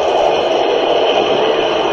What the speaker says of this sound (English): That sound is the upstop wheels spinning super quickly as they are pulled into the track